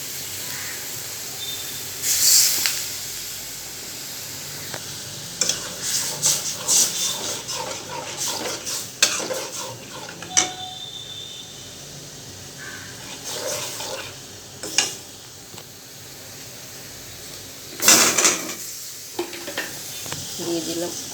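Sweet pumpkin cubes and egg frying in a pan, with a steady low sizzle under repeated scraping and stirring strokes, punctuated by a few sharper clanks of the spatula against the pan.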